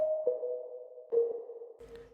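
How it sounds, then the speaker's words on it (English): A Serum 2 synth bass patch built from a plain sine wave plays a few sustained, clean tones in a row with gentle attacks, treated with compression, delay and reverb, no voices. "So this is actually just a sine wave."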